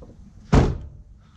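Car door slamming shut on a 2005 Ford Mustang GT, a single sharp, close thunk in an otherwise quiet garage.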